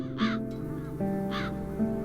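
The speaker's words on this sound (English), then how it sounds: "As long as the crows are wreaking havoc, nobody is admitted to the castle." Crows caw twice in a fantasy point-and-click adventure game, The Dark Eye: Chains of Satinav, two harsh calls about a second apart over a low steady musical drone.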